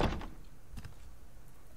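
A door closes in the survival video game Subsistence, a single solid thunk near the start followed by a fainter knock a moment later, then quiet room tone.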